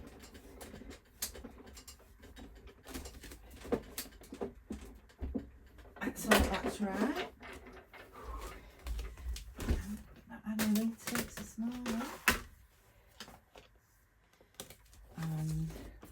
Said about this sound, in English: bear with me 30 seconds while I just wheel this through my embosser